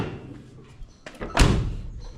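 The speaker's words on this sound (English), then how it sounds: "should I ever put grease on them doors so they don't clunk like that?" A Holden HQ car door clunks shut with a single solid, heavy thud near the middle, preceded by softer handling knocks and followed by a brief rattle.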